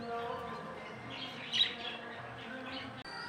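Small pet birds chirp and tweet in a steady, faint background twitter, one brighter call briefly rising above the rest.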